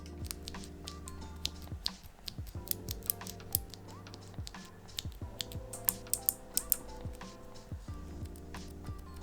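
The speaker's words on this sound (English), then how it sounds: "I ended up getting the Kale Silent Pink keys as they were said to be quite soundless when it comes to typing" Typing on a Dygma Raise split keyboard fitted with Kailh Silent Pink switches: a quiet, close, irregular run of soft muted key taps with no speech.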